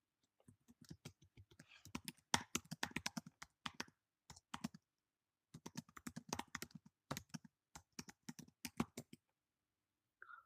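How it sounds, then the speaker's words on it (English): Fast bursts of keystrokes on a computer keyboard, typed close by in quick irregular runs separated by short pauses, with no talking. "I'll type it hello."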